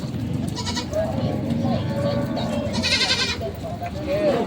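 Goats bleat repeatedly at a livestock market in Lucena, Quezon, over a steady crowd murmur and rumbling background noise, some cries near and others farther off.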